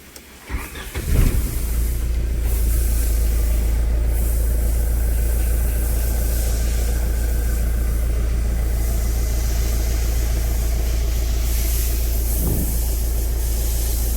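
A Tata Safari Storme diesel engine cranks and catches with a brief burst, then settles into a steady, loud, rumbling idle close by; the engine has a black smoke, knocking and cylinder 1 fault.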